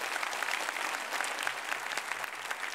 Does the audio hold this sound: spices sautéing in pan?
no